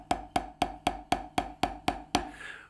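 A ProMark 5B Rebound drumstick, a lighter-weighted 5B with a light front end, tapping a practice pad in nine even, crisp strokes close up, then stopping.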